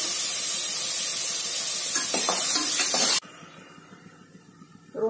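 Shallots, green chilli and tomatoes sautéing in a pan for a mutton trotter soup, a loud close hiss with a few stirring scrapes that suddenly drops to a quiet, faint simmer.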